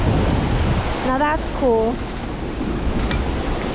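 Niagara Falls roars as a steady, loud wash of rushing water and wind throughout, while someone speaks briefly over it.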